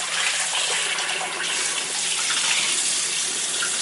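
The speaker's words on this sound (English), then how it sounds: "And I'm gonna wash this rice." Tap water runs steadily and loudly while rice is washed for arroz con garbanzos, a continuous close gush without a break.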